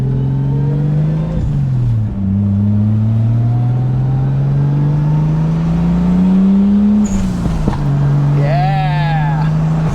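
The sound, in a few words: Toyota Supra 7M engine revving with boost turned up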